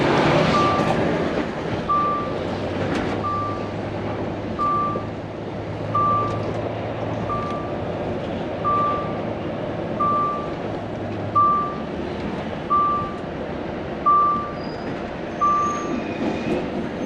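A road haulage truck backs up with a long, even series of reversing beeps, about a dozen evenly spaced tones over a low engine rumble, with occasional thumps and movement noise.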